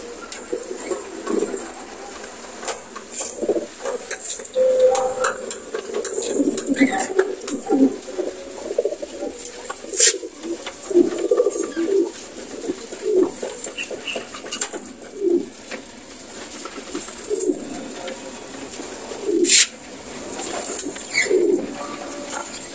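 Homing pigeons coo steadily and fairly close after arriving home in San Andres, Quezon, their soft repeated calls overlapping through the whole stretch with scattered handling noises and occasional sharp clicks.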